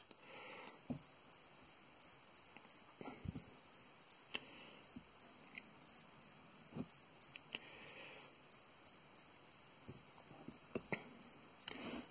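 Crickets chirp in a rapid, steady, close rhythm throughout, with a few soft knocks and rustles, while being fed to a Psalmopoeus irminia tarantula sling.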